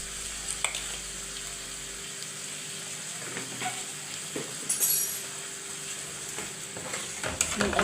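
Kofta sauce seasoned with pepper, coriander, cumin and salt simmers and sizzles softly in a pan, with scattered clinks and scrapes of a spoon stirring it, fairly quiet and steady with no talk.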